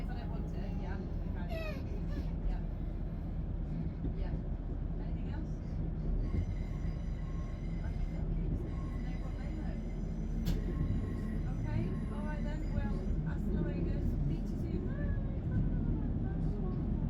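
A train runs along a Yorkshire railway line with a continuous loud rumble and clatter heard from on board, with brief squeals and someone talking over it.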